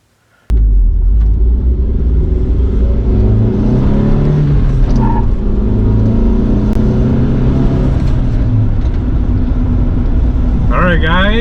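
A car fitted with MaXpeedingrods coilovers driving after starting from near silence, with a loud, steady engine and road rumble that continues throughout.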